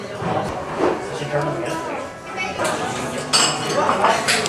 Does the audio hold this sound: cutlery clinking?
yes